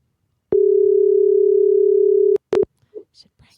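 A telephone line tone sounds while someone is being called: one long steady tone of about two seconds, then two short bursts, followed by faint voice sounds.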